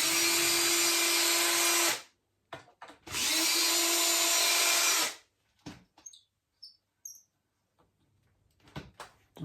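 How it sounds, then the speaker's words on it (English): A power drill backing screws out of a wooden guitar mould: two loud, steady whirring runs of about two seconds each, then short clicks and small handling knocks close by. "let's take out the screws"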